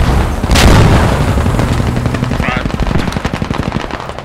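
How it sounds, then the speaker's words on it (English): Mortar rounds fire in the military shooter Squad, with a large booming blast early on followed by a rapid string of sharp, regular reports close by. "Are you shooting those mortars?"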